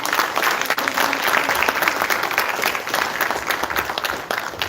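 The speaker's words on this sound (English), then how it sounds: "So let's give these ladies one more round of applause." Steady, loud applause from a crowd, continuous clapping throughout with no pauses.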